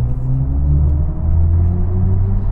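BMW i4 M50 electric car accelerating in sport mode, weighing 2.3 tonnes, with a synthesized drive sound designed by Hans Zimmer: a deep, swelling electronic hum with rising tonal layers over a low rumble, heard from inside the cabin.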